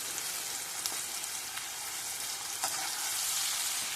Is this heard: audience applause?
no